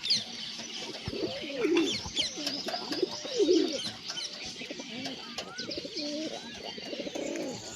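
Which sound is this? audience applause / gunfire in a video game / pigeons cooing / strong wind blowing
pigeons cooing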